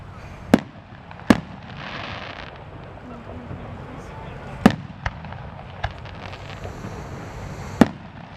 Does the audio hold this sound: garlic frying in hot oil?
no